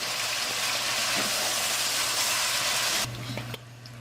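Turtle meat browning in a pot for a Cajun sauce piquant, a loud steady broadband sizzle for about three seconds that drops abruptly quieter toward the end, no one talking over it.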